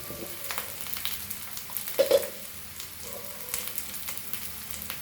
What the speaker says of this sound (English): At this point I will add my chilies and fry that also.